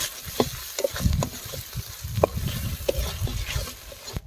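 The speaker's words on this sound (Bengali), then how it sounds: "মশলাগুলো এখন ভালো করে কষিয়ে নেব।" Spices with salt and turmeric sautéed in a pan for a soybean and egg curry, a steady close sizzle broken by frequent scraping stirs of the spatula, with no talking.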